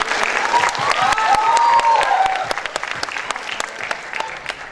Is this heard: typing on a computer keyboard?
no